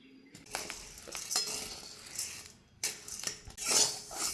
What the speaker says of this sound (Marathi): आता गहू भाजून घेत आहे मी।